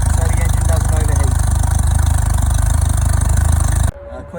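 A Mercury 40/60 hp four-stroke outboard engine runs steadily and loudly up close, a constant droning hum that cuts off abruptly near the end.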